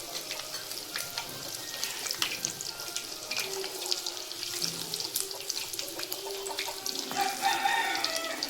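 Roosters crow in a rural Konkan village morning, several calls rising now and then over the steady splash of water running from a tap into a sink, with no talking.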